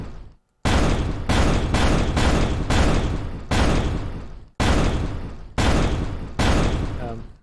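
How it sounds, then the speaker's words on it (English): Repeated loud synthetic explosion effects in a voxel terrain game, about nine booming bursts in quick succession, each cut off abruptly, close and punchy. "So you can see I added sound and an explosion animation."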